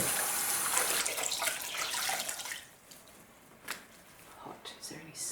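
Hot water gushes from a bathroom tap in a loud, hissing rush, then drops to a softer trickle with a few splashes and drips.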